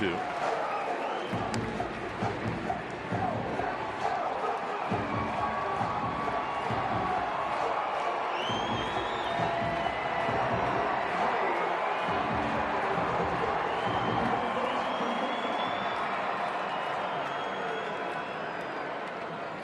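A near-sellout crowd at a Tigers–Twins baseball game fills the stadium with a steady, loud murmur of voices and chatter, swelling with occasional cheers, continuous throughout.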